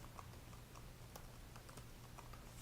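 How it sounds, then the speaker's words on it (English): Password being typed on a computer keyboard during an ESXi host installation: a quick, steady run of light key clicks over a constant low hum, with no talking. "I'll type my password."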